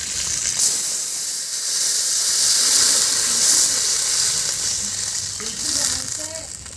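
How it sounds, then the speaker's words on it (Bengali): Water poured into a hot pan of fried fish heads sets off a loud, steady steaming hiss and sizzle that holds for several seconds, close up, with faint bubbling toward the end. "এখন জল দিয়ে দেব।"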